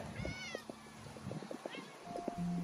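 Cats meow indoors, a few short rising mews repeated over faint background sounds and murmuring, with a brief tonal hum near the end.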